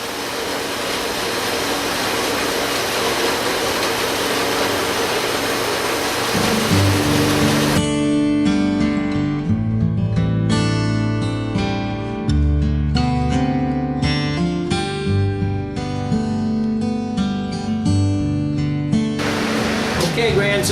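A steel shelf frame piece for a workbench is cut with oil applied to keep it cool, giving a loud, continuous grinding roar for several seconds before it gives way to music.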